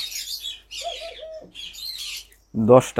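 Crested doves in a backyard aviary give short, bright chirps and soft calls at close range, with a brief burst of flapping or scuffling near the end.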